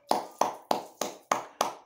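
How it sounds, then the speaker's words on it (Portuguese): Six sharp hand claps at a steady, even rhythm, close and distinct, each with a quick decay and no other sound between them. "Você tá entendendo que eu tô batendo palma pro Maringá?"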